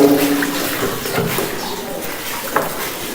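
Water poured over a body during a ritual funeral washing, with splashing and trickling bursts at close range amid faint background sounds.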